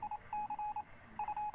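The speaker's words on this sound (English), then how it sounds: "There you go, Morse code." Electronic Morse code beeping from an encrypted message being decoded in Vampire the Masquerade Bloodlines, War Games mod: a steady tone pulsing in short and long bursts, with a pause midway, clear and alone.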